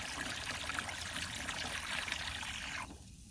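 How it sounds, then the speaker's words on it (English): Water from a garden hose pours into a 5 gallon bucket with a loud, steady rushing splash that cuts off sharply near the end. "so that took exactly 45 seconds to fill the bucket"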